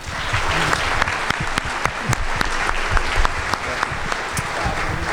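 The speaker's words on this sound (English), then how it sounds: "would you give the staff a round of applause?" An audience at a Louisiana legislative session preview conference gives the staff a steady round of applause, dense clapping from a full room with a few sharper nearby claps standing out.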